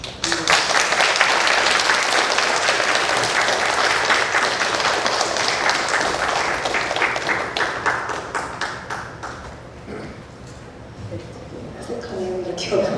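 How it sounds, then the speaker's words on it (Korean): A church congregation gives a pastor a loud welcoming round of applause at Cheorwon Manna Church, sustained and dense for about ten seconds before thinning to scattered claps, with a voice speaking faintly underneath near the end. "우리 올라올 때 보실 때 큰 박수로 환영해 주시면"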